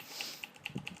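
Computer keyboard keys are tapped in a quick, light series of clicks during gaming, faint and close with no talk.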